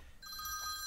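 Phone ringtone from a mobile game advertisement, a brief faint electronic trill of high pitched tones starting a moment in.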